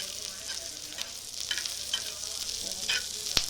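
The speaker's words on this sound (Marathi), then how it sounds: "हे बघा आता कांदा तेल टाकून भाजून घ्यायचा" Onion frying in oil in a pan while it browns, a steady close sizzle with occasional stirring scrapes and a sharp clink near the end.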